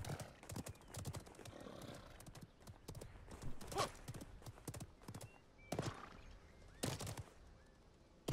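Hooves clip-clop in an uneven galloping rhythm as a mount runs in the video game Realm Royale, with scattered thumps and game effects mixed in at moderate loudness.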